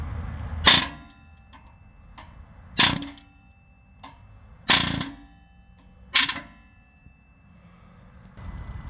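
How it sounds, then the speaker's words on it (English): A hammer strikes four times on the metal base of a bolted-in NOx sensor on a Citroën Dispatch, trying to shock it loose. The blows are sharp, loud and close, spaced about two seconds apart, with quiet in between. "I'm going to hit the base of where the sensor is bolted in here, just to try and shock it loose"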